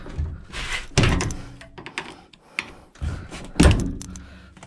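Heavy metallic thunks and bangs as someone forces open the crash-damaged rear doors of a Mercedes Sprinter van, with repeated loud close impacts, rattles and scraping.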